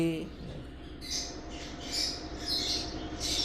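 Pet parrot giving several short rasping squawks close by, repeating every half second or so over a low steady background hum.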